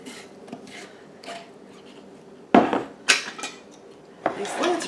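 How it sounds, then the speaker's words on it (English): Metal lids are screwed onto glass canning jars for green beans with bacon, giving scattered light scrapes and clinks that grow louder toward the end. "I'm just going to put the lids on there."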